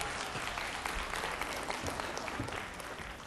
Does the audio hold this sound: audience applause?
yes